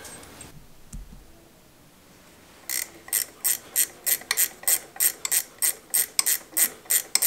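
A ratchet wrench tightens bolts on a Case David Brown 1394 tractor engine. After a quiet start comes a steady, close run of about fourteen crisp ratcheting clicks at an even pace.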